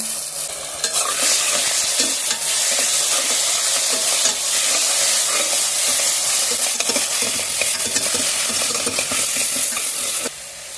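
Ginger garlic paste fries and is stirred in a pan while cooking chicken biryani, a steady loud sizzle with constant scraping and stirring throughout, no voices.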